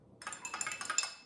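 A spoon stirring a tequila, lime and salt cocktail, giving a quick run of light, bright clinks against the glass, quiet and close with no talk.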